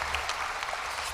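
Audience applause at a school awards assembly, a short steady patter of many hands clapping at moderate distance, fairly faint and even across the whole moment.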